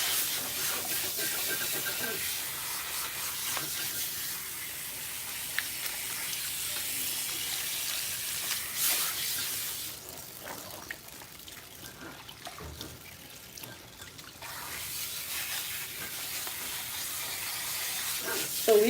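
Water running from a salon sink tap while relaxed hair is rinsed, a continuous soft hissing splash that shifts as the flow is moved through the hair, close and fairly quiet.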